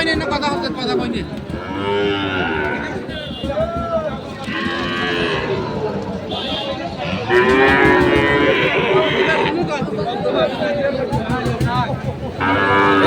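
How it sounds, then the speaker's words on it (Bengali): Repeated loud moos and bellows from several Sahiwal calves close by at the Ambari cattle market, overlapping one another, with a crowd murmuring and people talking in the background. "এই হাটে যে সাইবাল জাতের বাছুরগুলো রয়েছে"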